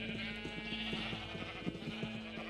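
Sheep in the Minecraft video game bleat over a steady backdrop of game music, a few short calls that sound faint and sit in the mix.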